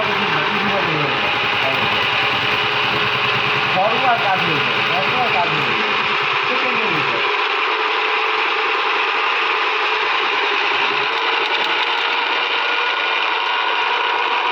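A robot salad maker machine runs with a loud, steady motor whine and hum throughout, and a voice talks over it.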